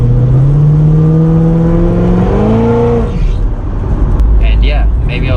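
Engine of a supercharged Corvette driving in the rain: loud, steady interior drone whose pitch rises smoothly as the car accelerates, then drops as it shifts and settles, with faint clicks afterward.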